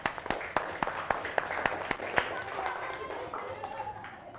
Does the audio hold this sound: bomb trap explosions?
no